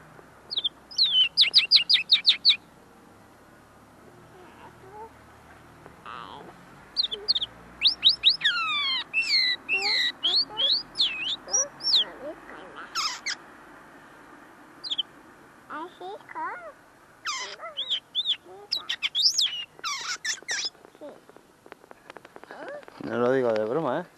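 A tame linnet sings beside its cage in bright bursts of twittering trills and chirps, close and clear, separated by short quiet pauses.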